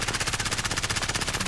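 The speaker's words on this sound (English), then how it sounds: "I just shot the ever-loving shit out of him" Rapid automatic gunfire in Call of Duty Warzone, one sustained burst of evenly spaced shots rattling loud and close for about a second and a half.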